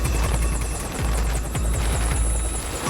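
Rescue helicopter coming in to land on a stomped-out snowy backcountry landing zone, its rotor chopping loudly and steadily with a heavy, continuous engine roar close by.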